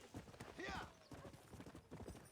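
Rhythmic hoof clip-clops from a horse in the video game Red Dead Redemption: Undead Nightmare trot along steadily on a road, with a brief whinny partway through.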